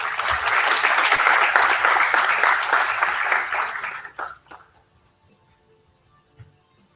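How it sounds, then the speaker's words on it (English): Dense, loud audience applause fills a hall at a B.Tech inauguration ceremony as dignitaries are honored. It holds steady for about four seconds, then dies away to near silence with a few stray claps. "Please have a round of applause for them."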